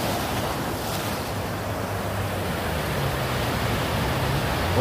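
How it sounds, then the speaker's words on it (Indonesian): Big ocean waves roar steadily and close by on Holtekamp Beach, Jayapura, with wind buffeting the microphone and no voices. "Pengen lihat ombak besar itu di depan kita"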